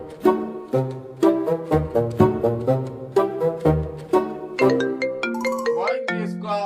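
A melodic electronic ringtone plays loudly, a repeating tune of bright tones, with a second ringing chime joining near the end.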